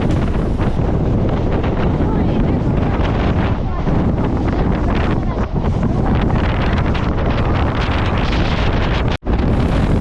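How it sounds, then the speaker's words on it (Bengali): Strong wind roars at the open door of a moving Sealdah–Namkhana local train heading toward the sea, buffeting the microphone in a loud, continuous rumble that stops abruptly near the end. "প্রচণ্ড হাওয়া চলছে, প্রচণ্ড, মানে দাঁড়িয়ে থাকা যাচ্ছে না দরজার মধ্যে"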